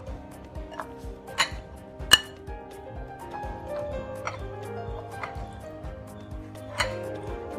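Chicken being mixed by hand with garam masala and spices for Kerala-style chicken thoran, giving irregular soft scraping with several sharp clinks against a bowl, at close range.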